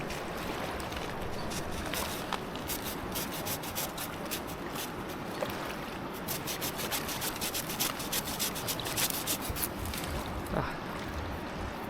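Rapid rasping strokes of a Victorinox pocket knife saw cutting through a wet branch, a continuous gritty scraping with an uneven back-and-forth rhythm.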